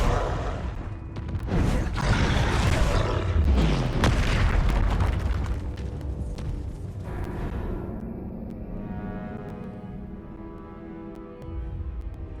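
Fiery burst from the Incendio spell in Hogwarts Legacy on Switch 2: a loud, dense run of booming blasts and crackling roar over the first several seconds, then fading into a lower rumbling tail with game music and no talking.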